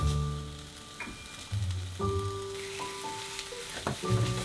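A chicken breast patty searing in a frying pan gives a steady sizzle and crackle. Light clinks and scrapes of utensils sound intermittently over it, with no talking.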